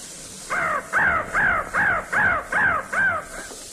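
A crow caws seven times in an even, steady series, each call loud, harsh and close, with no other sounds.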